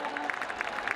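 A crowd at an outdoor French junior 3000 m steeplechase claps for the winning athlete, a brief, busy patter of applause with a faint voice mixed in.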